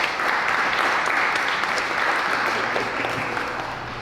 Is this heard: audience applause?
yes